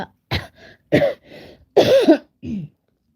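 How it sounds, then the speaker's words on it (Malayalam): A child and an adult with bad coughs produce four or five short, harsh coughs and throat-clearing bursts, spaced irregularly and heard close up in a quiet room. "മോന് നല്ല ചുമ എനിക്കും ചുമ"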